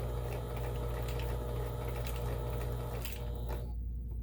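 A Kenmore 17922 sewing machine running a stretch straight stitch, giving a steady, close mechanical whir with rapid rhythmic needle clatter that stops shortly before the end.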